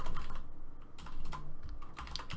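Rapid, uneven keystrokes clatter on a computer keyboard as someone types folder names while setting up Spigot server files, the clicks close and steady with short pauses between bursts.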